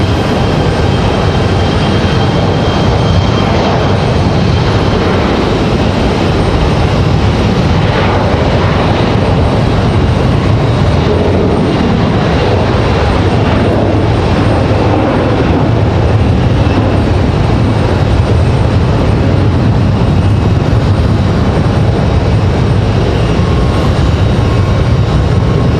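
A JetBlue jet airliner at Raleigh-Durham International Airport gives a loud, steady engine roar that holds for about 26 seconds, broadband and dense throughout, with no talk over it.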